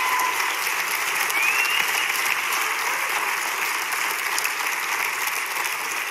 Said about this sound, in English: we should put our hands together and applaud